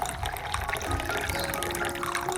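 Filtered water pours steadily from a container for about two seconds to dilute orchid fertilizer, a continuous close splashing stream with a slowly rising tone as the vessel fills.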